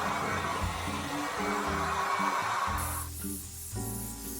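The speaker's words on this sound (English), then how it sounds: "I like to use the low setting. I will start with heat and then eventually use a cooler setting if the blow dryer has that" A hair dryer on its low setting blows steadily at close range over curly hair, its motor hum and airflow shifting slightly partway through as the setting changes.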